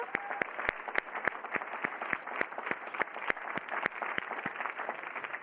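Applause from the audience at the closing plenary of the Solve Challenge Finals 2019, with sparse, distinct hand claps at close range over a steady, lighter patter that runs through the whole stretch.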